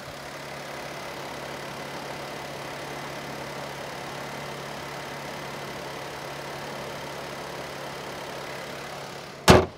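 A car engine idling with the air-conditioning compressor running: a steady idle with a constant mechanical hum and faint whirring, continuous and even, ending in a sharp click or thump.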